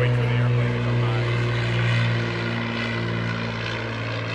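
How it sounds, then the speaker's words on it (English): A PT-17 Stearman biplane drones past with a steady, loud radial-engine roar and propeller hum that holds throughout, slowly easing off toward the end, with faint talk underneath. "so I'll wait for the airplane to come by."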